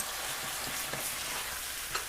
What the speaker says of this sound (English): start stir frying those noodles